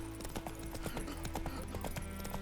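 The horse Roach gallops in The Witcher 3, its hooves pounding in a quick, steady clip-clop rhythm that stays close and even for the whole stretch.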